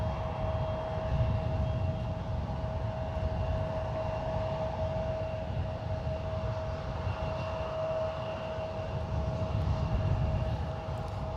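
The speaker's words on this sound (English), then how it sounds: "there goes United 1973 off to Chicago O'Hare. It's a 777-200, one of their domestic 777s." A United Boeing 777-200 departs San Francisco for Chicago with a distant, steady engine roar and a thin sustained whine holding evenly throughout, heard faintly and alone.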